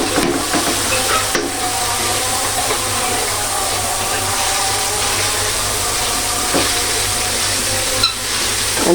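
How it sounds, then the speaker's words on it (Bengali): Cabbage and tomato fry in a pan in a steady, continuous sizzle with the occasional stir, loud and close with no talking. "এটা আস্তে আস্তে ভাজিটা হোক যেন আমার আলাদা করে কোনো পানি না দিতে হয়"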